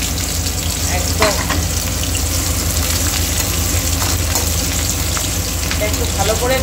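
Vegetables for a Bengali bharta fry in a pan with a steady, close sizzle and occasional stirring scrapes, loud and continuous with no talk.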